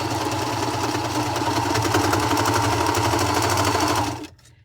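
A sewing machine runs steadily, stitching a narrow-allowance gusset seam into a tank top, with a continuous close hum and rapid needle rattle that stops abruptly near the end.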